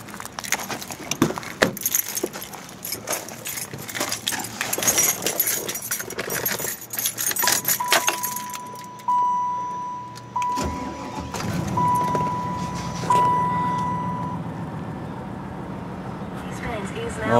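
A 1996 Cadillac Fleetwood Brougham started with its keys, with jangling keys and clicks followed by the engine catching and settling into a low, steady idle, with someone talking over it.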